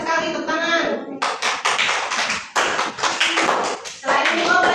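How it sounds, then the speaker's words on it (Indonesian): Children in a classroom clap their hands together in a burst of quick taps, close and fairly loud, with a teacher's voice speaking before and after. "tepuk tangan"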